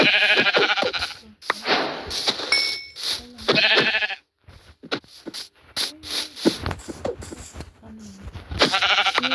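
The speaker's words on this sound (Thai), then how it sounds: "เจอแกะสองตัวเลยนี่แ" Two sheep in Minecraft bleat repeatedly, wavering blocky cries coming in bursts with brief gaps, loud and close, mixed with other game sound effects.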